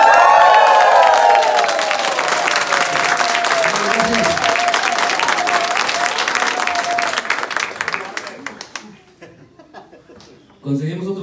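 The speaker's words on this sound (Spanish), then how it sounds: "Una ola y un aplauso grande" A church congregation bursts into loud, sustained applause with cheering and laughter mixed through it, then thins to scattered claps and a few voices before a brief swell at the end.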